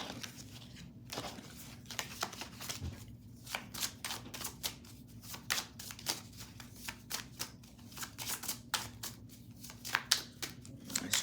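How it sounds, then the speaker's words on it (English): Tarot cards being reshuffled by hand make a run of quick, crisp riffling and flicking bursts in an uneven rhythm, close and fairly quiet. "We're going to reshuffle my cards"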